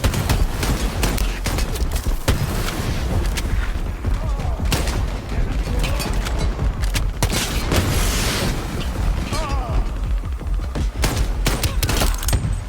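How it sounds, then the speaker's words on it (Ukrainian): A grenade explodes amid heavy gunfire in the video game Shatterline, a dense, continuous barrage of loud shots and booms with no pauses. "Граната пішла!"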